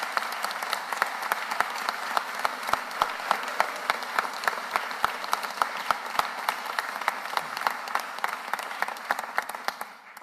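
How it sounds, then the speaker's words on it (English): A crowd at a Philadelphia city government announcement applauds steadily for about ten seconds, a room full of hands clapping evenly with a few sharper individual claps standing out, tapering off at the end. "Give her a round of applause."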